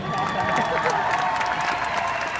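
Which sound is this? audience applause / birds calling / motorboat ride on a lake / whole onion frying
audience applause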